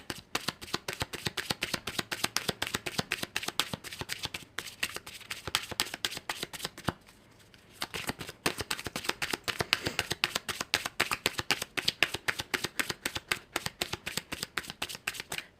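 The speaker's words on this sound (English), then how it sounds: "I'm going to draw a couple cards from the Romance Angels Oracle deck here." Romance Angels Oracle deck cards being shuffled by hand, a steady run of crisp riffling flicks close up, with one brief pause midway before the shuffling resumes.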